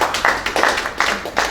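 An audience at a business expo claps, a few uneven bursts of hand claps from a modest crowd, fairly near and moderately loud.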